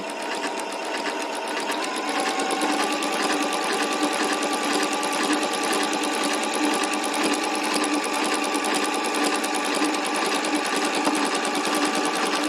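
A sewing machine stitches a table runner with a steady, continuous whir for the whole span, loud and close, with no talking.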